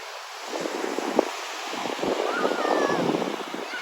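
Strong wind buffets the microphone in a loud, roaring rush on white-sand Pensacola Beach, with surf washing faintly underneath.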